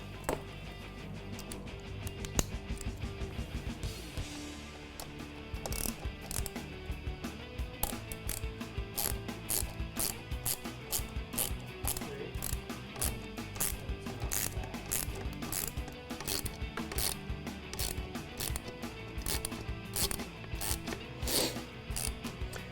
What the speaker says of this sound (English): we need to remove this plastic shield right here, starting with our T25 Torx bit